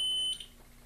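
A multimeter continuity beep sounds during an aquarium LED light repair: a steady high electronic tone for about a third of a second that then cuts off, followed by quiet.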